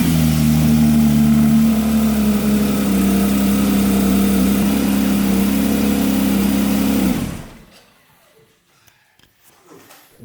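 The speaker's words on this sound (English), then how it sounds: "That was this week's cold start. Porsche 911 GT3, brand spanking new." A brand-new Porsche 911 GT3 fires up cold and revs loudly, a steady roaring engine note with rising throttle blips close by, cutting off abruptly to near silence near the end.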